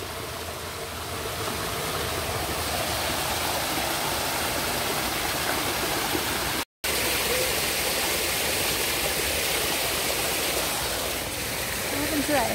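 A waterfall roars as a loud, steady rush of broadband noise. It runs continuously apart from one abrupt momentary cutout midway.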